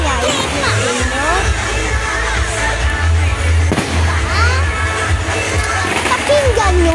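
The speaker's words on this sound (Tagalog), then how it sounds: "Pakinggan nyo nga po, super daming fireworks." Many fireworks bang and crackle over a crowded town plaza at night, bursts following one another steadily over a loud crowd murmur, with people talking nearby throughout.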